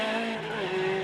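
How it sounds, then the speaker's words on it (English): An Opel Manta 400 rally car at the 1998 Cavan Stages Rally, its engine holding a steady loud whine that bends slightly in pitch with a touch of tyre noise, close and continuous with no talk. "Michael McCardle and Lisa Mangan bring their Manta 400 home in 11th place."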